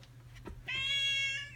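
A cat gives a single drawn-out meow, clear and close, rising in the middle and fading at the end over a low steady hum.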